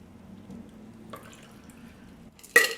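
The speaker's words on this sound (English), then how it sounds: "we are going to strain that into a preferably chilled coupe" A Between the Sheets cocktail is strained into a chilled coupe glass: a soft, low trickle of liquid runs quietly, then a brief, bright splash bursts near the end.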